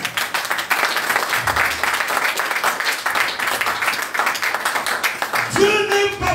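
A church congregation bursts into sustained applause, a dense, loud wash of many hands clapping for several seconds, with voices rising underneath and a tone entering near the end.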